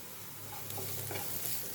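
Garlic sautés with onion in a pan, a faint, steady sizzle with soft stirring scrapes throughout a short stretch.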